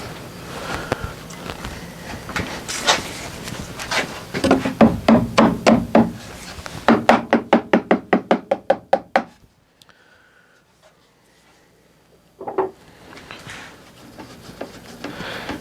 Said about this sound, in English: Let me get a little hammer here.